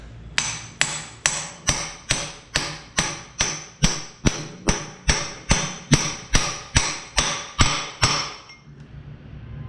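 Steady hammer blows drive a socket onto a crankshaft snout to seat the timing gear on a 1974 Chevy C30 dually, about eighteen sharp metallic strikes in an even rhythm, close and loud, then quiet.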